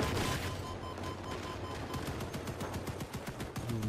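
Vehicle-mounted guns firing in the video game Crossout, a loud, rapid, continuous machine-gun stream of evenly spaced shots with no pause.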